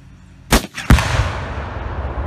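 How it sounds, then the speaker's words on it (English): A rifle fired outdoors for a Fourth of July celebration: two sharp, loud reports a moment apart, the second booming and rolling off in a long echoing tail. "we're going to get back to the truck where our rifle is"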